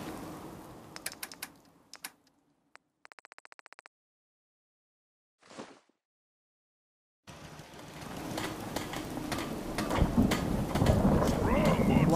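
In Fallout 4, a few clicks and brief ticks are followed by near silence, then steady rain and low rumbling thunder come in for the last few seconds and grow louder.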